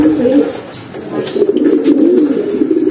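Pigeons coo nearby in low, rolling, repeated calls, with some faint rustling and background noise around them.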